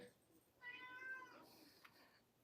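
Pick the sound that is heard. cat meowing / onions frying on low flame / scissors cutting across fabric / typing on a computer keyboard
cat meowing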